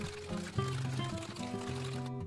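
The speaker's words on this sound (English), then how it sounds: "Add an ice spear to a Collins glass and then strain the cocktail over the ice." Liquid from a shaker tin trickles through a strainer over an ice spear into a Collins glass, a soft steady pour with light gurgling, faint and close, under quiet background music.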